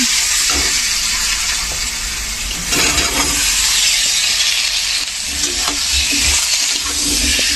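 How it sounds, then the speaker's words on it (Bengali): Fish fry in oil in a pan, a loud, close, continuous sizzle and crackle with a few brief stirring scrapes and surges, and no voices. "তো চলো মাছগুলো ভাজতে থাকি এখন"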